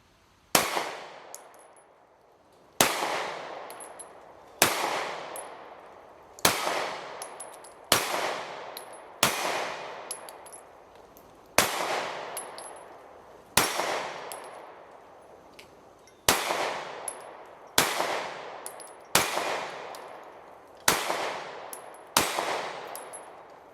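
A Taurus GX4 XL pistol being test fired: about fourteen sharp, loud, close shots spaced a second or two apart, each with a short ringing tail, and no talking.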